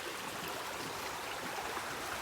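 A forest stream flows in a steady, dense wash of water noise, continuous and even throughout with no voices.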